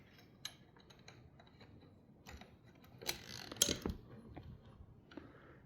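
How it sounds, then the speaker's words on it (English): A Workpro wrench extender being slid onto a wrench, giving faint metallic clicks and a brief ratcheting rattle midway, close up in a quiet room. "just run it down over your wrench"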